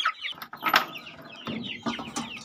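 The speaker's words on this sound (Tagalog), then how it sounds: "Manok." A chicken clucks in a few short bursts, close and fairly quiet, with brief pauses between the calls.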